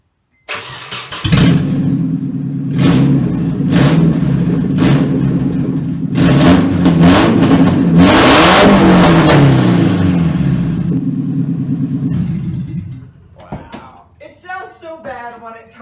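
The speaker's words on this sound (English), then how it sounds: "we're going to run the car without the exhaust right here, just so we can give you a little taste" Nissan 240SX engine cranking to life and running with the exhaust removed, loud raw idle rising into rough revs for about twelve seconds before dropping off, with a person talking at the end.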